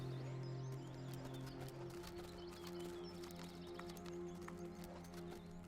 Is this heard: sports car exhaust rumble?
no